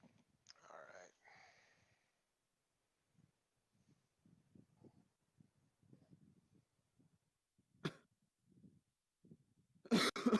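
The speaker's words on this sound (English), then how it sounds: "Oh, but now you're hearing me cough" A person coughs and clears their throat in a quiet room, a couple of sharp bursts at the start and end with soft murmuring and faint talk in between.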